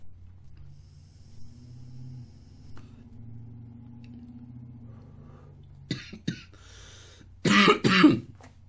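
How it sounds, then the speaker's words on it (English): A man coughs after drawing on a grape vape cartridge: a low, quiet background hum runs for several seconds, then a couple of short throat-clearing coughs give way to a louder, rough burst of coughing nearby. "That's me coughing, not the cart."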